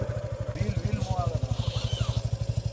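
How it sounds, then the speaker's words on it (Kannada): Motorcycle engine revving after a sudden clutch release, a loud, close, steadily pulsing exhaust throb with a voice talking over it. "ಸಡನ್ ಆಗಿ ಕ್ಲಚ್ ಬಿಟ್ಟು ಅದೇ ರೈಸ್ ಮಾಡ್ತೀಯಲ್ಲ"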